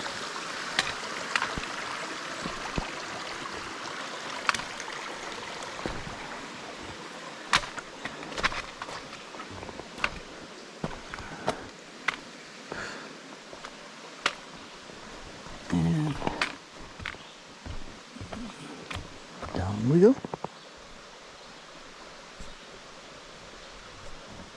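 Water rushing over rocks in a stream with waterfalls nearby, a steady close hiss of flow with scattered knocks and splashes, and a person talking briefly toward the end.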